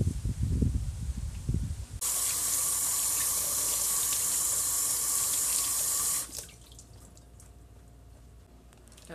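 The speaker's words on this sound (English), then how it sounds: "Gotta wash the Clyde off of my hands" Water runs steadily from a tap into a sink as hands are washed, a loud even rush that starts abruptly and then cuts off to a faint hiss.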